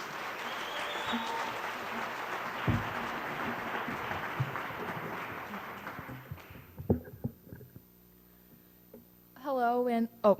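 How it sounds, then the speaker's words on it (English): An audience applauds steadily for several seconds for the Downtown School West African Drummers, the clapping fading out, followed by a few scattered sounds and then a voice starting to speak. "let's give a great round of applause"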